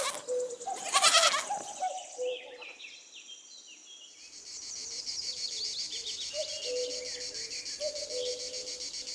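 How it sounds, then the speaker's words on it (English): A young goat gives one loud, wavering bleat near the start, followed by a steady chorus of crickets or other insects chirping in the background. "Little goat."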